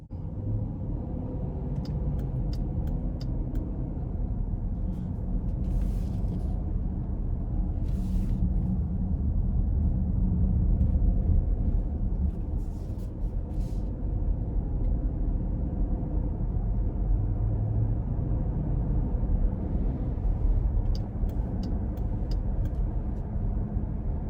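A 2021 Jeep Grand Cherokee Summit with a 5.7-liter engine cruises along, heard from inside as a steady, low, moderately quiet engine and road rumble, with a few faint clicks and no talking.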